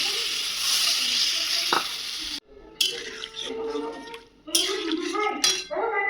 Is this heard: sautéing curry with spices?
yes